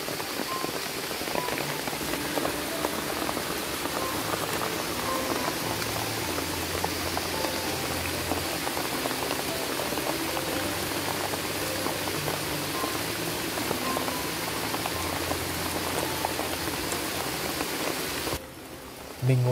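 Heavy rain pours outside in the rainforest, a dense, steady hiss of drops drumming on surfaces that continues almost unbroken before briefly dropping off near the end.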